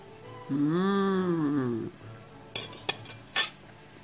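A knife and fork cut a piece of turkey cordon bleu with melted cheese. A brief tonal hum comes first, then a few light metallic clinks and taps of cutlery against a plate, close by and fairly quiet.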